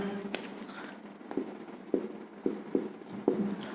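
A marker or chalk scratches numbers and fractions onto a board during a maths lesson, short brisk strokes arriving in uneven bursts with small taps between them, close and clear with no talk.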